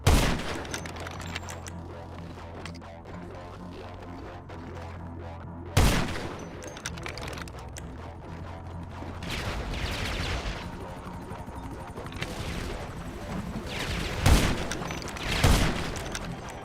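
Gunfire and mortar blasts in GTA Online, sharp booms and bursts of shots spread across a low rumbling game backdrop, with louder hits now and then.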